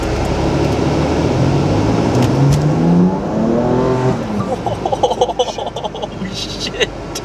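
A Bentley accelerating hard from a standstill, a loud close engine roar rising steadily in pitch as it pulls through the gear, then easing off. People talk in the car alongside it.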